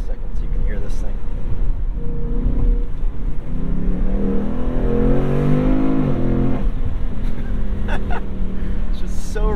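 A 2021 Ford Mustang Mach 1 with an automatic transmission roars and revs under acceleration, rising and falling through gears with a harsh exhaust note close by.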